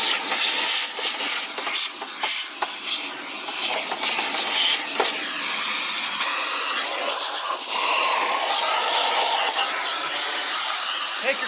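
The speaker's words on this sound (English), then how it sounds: "the best way to clean out any vacuum dust from a vacuum is with central vacuum" Loud rushing suction hiss of a central vacuum cleaning out a Hoover WindTunnel upright vacuum, continuous with fluctuating airflow and rattling bits of debris as the nozzle moves.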